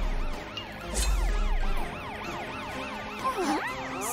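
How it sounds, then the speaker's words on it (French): A cartoon police car siren's rising and falling wail, repeating quickly over rumbling traffic, loud and close. "Voiture de police, utilise tes sirènes pour dégager le chemin."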